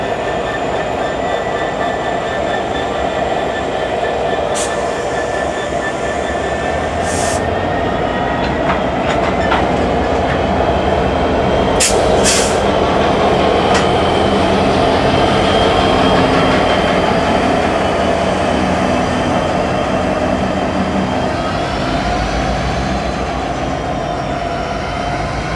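Norfolk Southern diesel locomotives, two GP-series units, a slug and a GP60, shove a freight train past: a loud continuous engine drone with rumbling wheels and brief high squeals and clanks, with no talk throughout.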